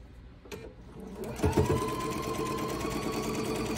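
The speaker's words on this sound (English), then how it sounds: "I will sew right up until I'm almost to that pin" A sewing machine stitches a quilt, starting after a short quiet pause with a few clicks, then running in a steady close mechanical whir to the end.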